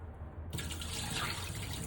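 Tap water gushes into a kitchen sink while raw chicken is washed, the steady splashing flow starting abruptly after a brief quiet moment and continuing close and even.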